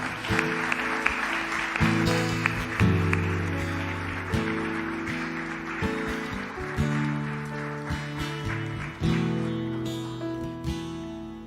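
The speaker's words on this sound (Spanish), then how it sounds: "Dale un fuerte aplauso al Señor esta hora" A church congregation applauds for the Lord after a prayer, a dense patter of clapping heard beneath sustained organ or keyboard chords, with the clapping swelling in bursts over the music.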